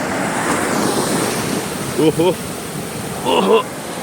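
Ocean waves wash steadily onto a beach in Rio de Janeiro, a continuous roar of surf mixed with wind buffeting the microphone, while voices speak briefly twice in the background.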